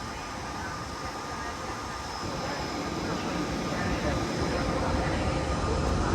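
A train locomotive at a Hungarian station at Budapest-Kelenföld gives off a steady blower roar, a continuous broadband rush that slowly grows louder, with a voice talking faintly over it.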